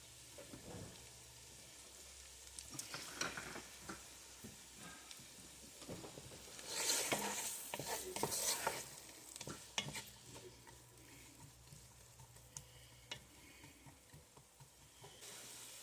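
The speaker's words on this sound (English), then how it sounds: "And we'll start sauteing vegetables" Vegetables seasoned with salt and pepper sauté in a pan for diner-style chili with beans, a faint steady sizzle broken by scattered stirring scrapes, with a louder hissing stretch midway.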